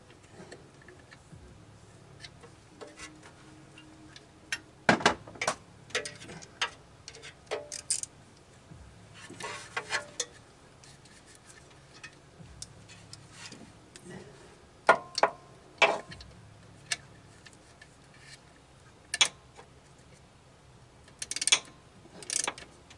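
A ratchet wrench clicks in short, intermittent bursts while tightening a 13 mm alternator bolt on a 2008 Ford Fusion 2.3, with quiet pauses between the sharp ratcheting runs.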